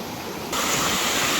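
Waterfall deep in a Thai forest, a broad steady rush of falling water that swells noticeably louder partway through and then holds as a continuous roar, with no voices.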